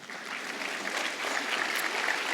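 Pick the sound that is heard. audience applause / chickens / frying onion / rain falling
audience applause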